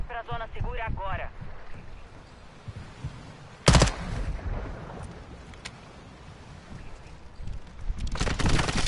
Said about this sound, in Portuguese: Teve outro que atirou em mim, onde foi esses tiros?